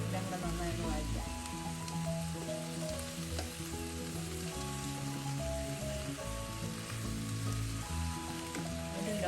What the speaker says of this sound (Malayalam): ഒരു ലോ ഫ്ലെയിമിൽ ഉള്ളിയൊക്കെ ചെറുതായി ഒന്ന് വഴറ്റിട്ടുണ്ട്.